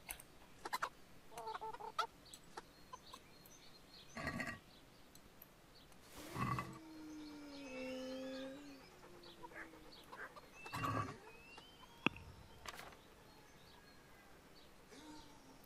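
Chickens cluck and squawk around a farmyard in the medieval video game Kingdom Come: Deliverance, with scattered short calls spread across the scene and a few louder bursts standing out, no talking.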